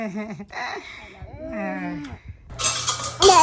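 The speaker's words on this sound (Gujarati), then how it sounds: "તપેલીઓ અને કળાઈઓને બધું લઈને સ્ટીકથી ઢોલ વગાડવા બેસી ગયા છે" Children bang pots and pans with sticks like drums, a loud burst of metallic clattering and clanking that follows a stretch of voices and talk.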